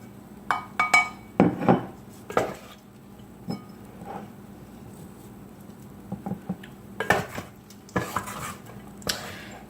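Sticky rice is scooped and added to a bowl, with repeated close clinks and scrapes of utensils against dishes in irregular bursts. The clatter is fairly loud and stands alone, with no talking.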